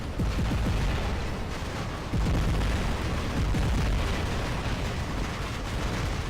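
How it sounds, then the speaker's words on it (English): Rocket explosions and booming blasts in the robot combat game War Robots form a dense, continuous roar of detonations and rumbling impacts, loud and close throughout with no pauses. "There we go, dodging the rockets."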